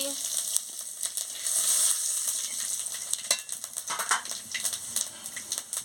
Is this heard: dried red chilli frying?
yes